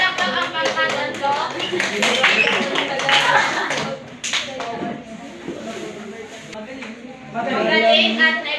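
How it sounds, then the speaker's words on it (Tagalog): A classroom group of students claps for group three, the clapping mixed with talk and chatter, fading through the middle and swelling again near the end. "Bigyan ng palakpak ang pangkat tatlo."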